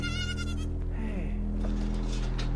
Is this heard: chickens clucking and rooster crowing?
no